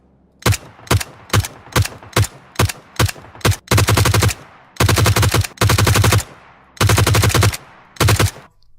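Suppressed gunfire in PUBG Mobile: a run of evenly spaced single shots, then several sustained full-auto bursts with brief gaps, loud and close, with no talking.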